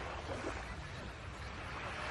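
Sea waves washing ashore at Dalampasigan Beach in Sariaya, Quezon, a steady broadband surf wash with some wind, heard alone with no talking.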